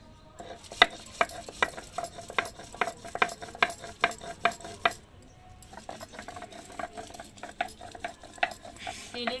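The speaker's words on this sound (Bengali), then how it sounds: "এই রান্নার জন্য সব মশলাগুলোই তেলে ভেজে নিতে হবে" Spices frying in oil in a pan while being stirred for a Bengali chicken dish, heard as a rapid series of sharp scraping and clanking stirs over a soft sizzle, close up, with a brief pause midway before the stirring resumes.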